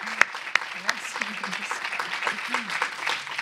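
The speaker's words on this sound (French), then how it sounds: "Et je crois que cela mérite des applaudissements." An audience at a political gathering applauds, sharp individual claps standing out over a steady patter of crowd clapping, with a voice speaking intermittently underneath.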